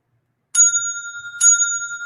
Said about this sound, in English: I keep forgetting to do that bell. Gotta have a super chat bell.